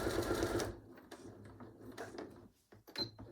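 A domestic sewing machine back stitching a top seam on a small fabric pin cushion, with short mechanical whirring bursts and pauses, close and quiet.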